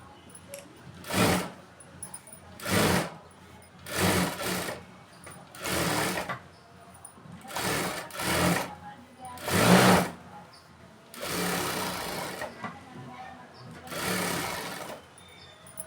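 A sewing machine stitches around the edge of a blouse lining piece in a run of short, close, loud bursts separated by brief pauses, with a couple of longer stretches of continuous stitching near the end.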